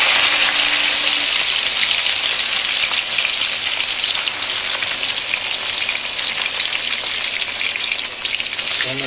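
Carrots and capsicum dropped into hot oil for spaghetti, a loud, steady, dense sizzle that fills the whole stretch close up with no pause, like heavy rain on a surface.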